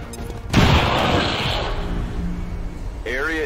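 A heavy blast erupts from bomb drops in XCOM 2, a loud rumbling explosion that decays over a couple of seconds before a voice comes in over the fading tail.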